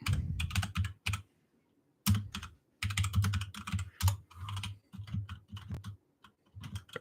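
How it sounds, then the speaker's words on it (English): Someone types on a computer keyboard in close, clear bursts of rapid key clicks separated by short pauses, with no talking. "I have to look at my keyboard to type."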